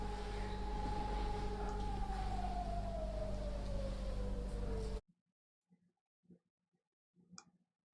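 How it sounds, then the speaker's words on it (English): A distant emergency vehicle siren wails in the background, a slow falling tone over a steady low rumble for about five seconds before the sound cuts to near silence with a few faint clicks. "You can also hear what sounds like a siren in the background."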